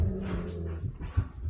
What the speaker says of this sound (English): pardon my dogs, they just finished dinner